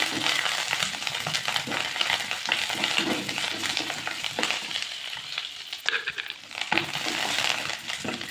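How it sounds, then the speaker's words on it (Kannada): Fresh curry leaves spluttering and crackling in hot oil in a pan, a dense, steady sizzle with sharp pops throughout, close and fairly loud with no talking. "ಈಗ ಕರ್ಬೇವಿನ ಸೊಪ್ಪು ಹಾಕ್ತಾ ಇದ್ದೀನಿ. ನಾನು ಹಸಿದು ಹಾಕ್ತಿರೋದ್ರಿಂದ ಸ್ವಲ್ಪ ಚಟಪಟ ಅನ್ನುತ್ತೆ"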